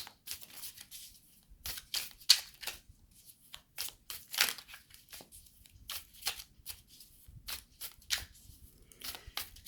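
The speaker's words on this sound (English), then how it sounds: "The first thing I do before I tune into anybody's questions is I shuffle the cards 7 times." Tarot cards are shuffled in quick, crisp bursts of papery slapping and sliding, without riffle shuffling, repeated irregularly and close up, with no talking.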